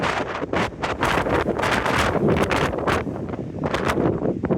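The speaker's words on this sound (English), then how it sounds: "I'm going to head indoors out of the wind." Strong outdoor wind buffets the microphone in loud, continuous gusts of rushing, roaring noise that swell and fade throughout, with no one speaking.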